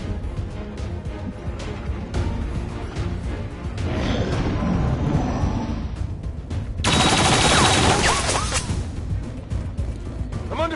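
Gunfire in the strategy game XCOM 2 rattles in repeated automatic bursts, loud and close, building to an intense crackling barrage toward the end.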